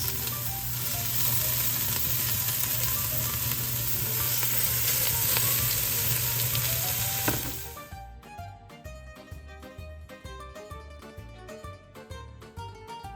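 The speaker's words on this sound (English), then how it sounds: "Heat up some olive oil in a pot, and when hot, slide all the chopped veggies in. Brown them for about 3 to 4 minutes." Chopped vegetables browning in hot olive oil in a pot for Bolognese ragu, a loud, dense sizzle that runs steadily for several seconds, then drops to a quieter crackle with scattered pops, close up with no talk.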